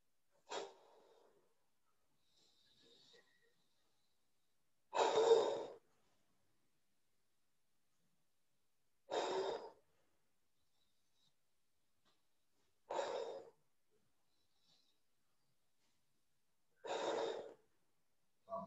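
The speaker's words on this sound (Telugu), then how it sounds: "ముక్కు ద్వారా తీసుకోండి, నోటి ద్వారా ఊదండి." Forceful yogic candle breathing during a yoga class: four sharp, loud exhalations blown out through the mouth, spaced about four seconds apart, with near silence between them and no talk.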